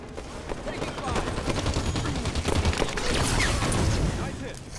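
Gunfire in Halo 5 during an Oddball match: a dense, continuous rattle of rapid shots with steady loudness and occasional sharper cracks, with game voice callouts mixed in.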